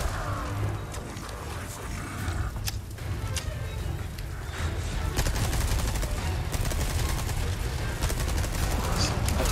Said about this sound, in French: est-ce que c'est le moment de sortir la mitraillette?